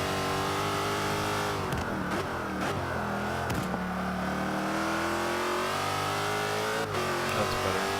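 A Jaguar XKR-S in Forza 5 revs and accelerates around the Catalunya circuit, its engine note climbing and dropping through gear changes, loud and close throughout.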